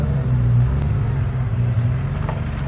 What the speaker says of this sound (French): Alors une Matra Murena, suivie d'une Porsche 911, une deuxième Porsche 911